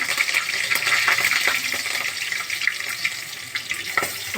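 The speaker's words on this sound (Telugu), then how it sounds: "ఫస్ట్ మిర్చి వేసుకుందాము, కరివేపాకు," Chillies and curry leaves frying in hot oil in a kadai, a steady loud crackling sizzle with scattered sharp pops throughout, up close and without voices.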